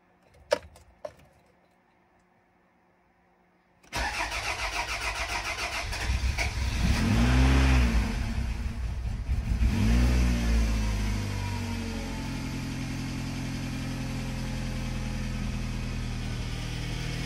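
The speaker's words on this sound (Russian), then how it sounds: "Двигатель запустился, работает тихо." A 2003 Toyota RAV4 with a rebuilt 2.0-litre 1AZ-FE engine cranks and fires up after a few faint clicks, then settles into a steady, fairly quiet running hum without knocking or rattling, with a couple of brief revs, heard alone.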